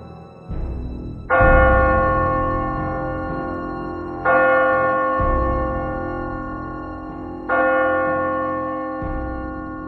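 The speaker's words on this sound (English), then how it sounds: "The bell struck 12." A church bell rings out in slow, measured strokes, each ringing note decaying into a long shimmering hum before the next; three strikes are heard, loud and resonant with no voices.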